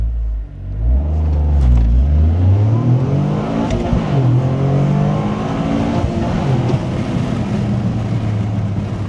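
Toyota GR Corolla with its stock intake, heard from inside the car with the windows cracked: the engine revs up and down through several gear pulls, a steady loud drone with rising and falling pitch and no talking.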